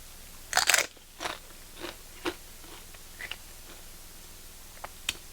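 A tortilla chip loaded with roasted salsa is bitten and crunched, a loud crisp snap up front followed by several softer chewing crunches that taper off, close and alone without talk.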